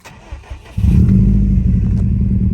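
A 2012 Subaru Impreza WRX STI engine catches and settles into a loud, steady rumble, revving slightly, close by with no talking.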